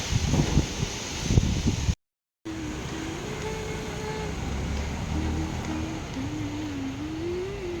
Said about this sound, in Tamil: வருங்க எப்படி காற்றடிக்குதுன்னு